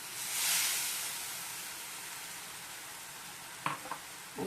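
Pineapple sheera cooks in a pan as roasted semolina goes in, with a soft sizzling hiss that swells early and fades, then a few sharp scraping stir knocks near the end.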